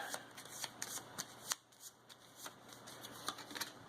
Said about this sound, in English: Let's shuffle these up a bit.